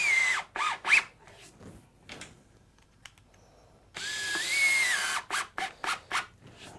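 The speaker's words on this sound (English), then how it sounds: "we'll quickly change to a bit with a Phillips bit. Just throw some couple screws in that" A Festool cordless drill drives screws with a Phillips bit, giving two short whirring bursts, a quiet pause with faint handling clicks, then a longer steady run followed by several quick pulses, all close and clear.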